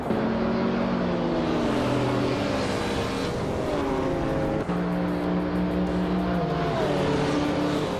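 Racing video game cars, including a 2021 BMW Z3M, launching off the start line together, a loud continuous engine roar with rising harmonic sweeps as they accelerate and shift gears.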